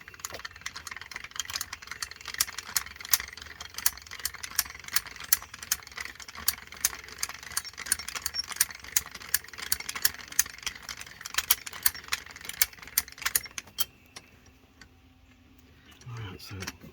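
A vehicle jack being cranked to raise a car, giving a steady run of quick ratcheting clicks at close range for most of the stretch before stopping near the end.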